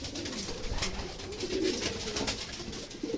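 Racing pigeons coo steadily at a loft in Talavera, Nueva Ecija, with soft overlapping low calls rolling on throughout, fairly close, over a constant outdoor hiss and no talking.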